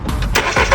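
A car that has trouble starting is cranked, its engine turning over in a short burst of uneven churning pulses, close and fairly loud.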